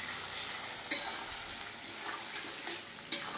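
Chicken and tomato fry lightly in a pan, a soft, steady sizzle with a couple of sharp clinks from stirring.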